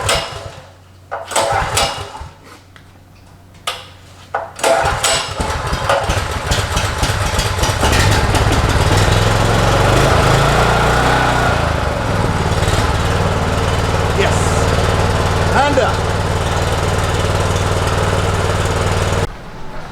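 A Honda GX390 engine on a pressure washer is cranked with a few pulls, then catches and roars into a loud, steady close-up run that continues to the end.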